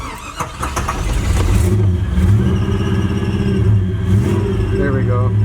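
A carbureted engine on an overlanding vehicle cranks and catches after being run dry and refilled with about five gallons of gas, then revs unevenly up and down at close range, with people talking over it.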